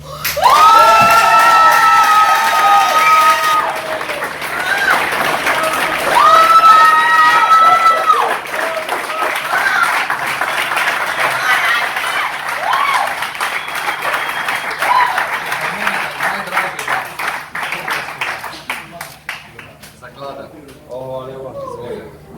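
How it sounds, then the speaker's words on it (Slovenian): Sustained applause and cheering from a large crowd at the results announcement of the Oplotnica 2022 music festival, loud and dense, with voices and sung or shouted tones over the clapping before it thins toward the end. "Dajmo še enkrat aplavz za vse."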